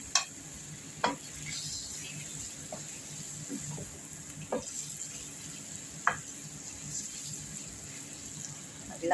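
Chicken breast stirred in a hot pan, with a steady low sizzle under scattered sharp clinks and scrapes of the utensil against the pan at irregular intervals, close and fairly quiet, no talking.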